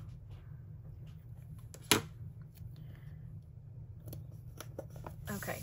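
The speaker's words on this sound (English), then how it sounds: "I'm gonna cut the blue off." A single sharp snip of scissors cutting paper for a Disney-themed monthly layout in a Classic Happy Planner, close and brief against a steady low room hum.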